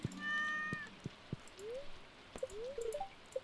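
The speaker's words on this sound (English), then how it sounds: "Kitty cat." A cartoon cat in the modded Stardew Valley Expanded farming game opens with a clear, drawn-out meow. Short chirpy in-game sound effects and soft clicks follow, with a light rainy ambience underneath.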